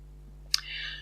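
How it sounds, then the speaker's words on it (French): A single sharp key press on a computer keyboard, one close click with a brief ringing tail, over a quiet humming background. "appuyer sur le S de notre clavier pour insérer un pluriel"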